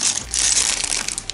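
A crinkly plastic package of a Fiksiki toy construction kit with the Nolik figure is torn open, making a short burst of loud, close crackling and crumpling.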